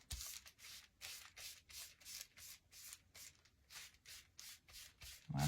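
Light rubbing strokes work material onto a Dollar Tree placemat, a close, even run of about fourteen soft scuffing passes in a steady back-and-forth rhythm, ending with a brief dull thump.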